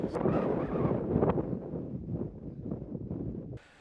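Blustery wind rumbles across a golf course, battering the microphone in a loud, continuous low roar that cuts off abruptly at the end, with no one speaking.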